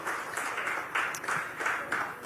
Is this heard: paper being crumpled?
no